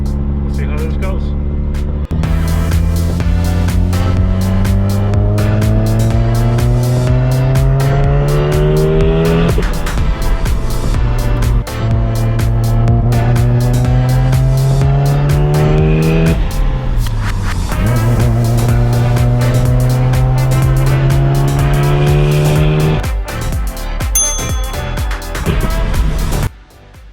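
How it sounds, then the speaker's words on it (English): An RX-7 car engine revs up through the gears repeatedly, rising in pitch then dropping at each shift, loud and close throughout with occasional clicks. "I'm taking the car out for a ride to see how it feels"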